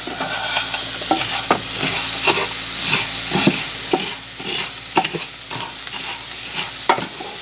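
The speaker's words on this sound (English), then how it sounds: "Now I'm just going to stand and stir and try to keep it moving as best I can." Mexican rice frying in a pan is stirred steadily, with a spoon scraping and knocking at irregular intervals over a constant close sizzle and no voices.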